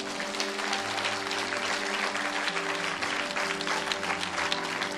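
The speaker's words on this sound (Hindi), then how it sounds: "आइए तालियां बजाइए इन लोगों के लिए।" Church congregation applauding its leaders during a service, a thick, continuous wash of clapping from many people that holds steady throughout, with a faint tonal hum underneath.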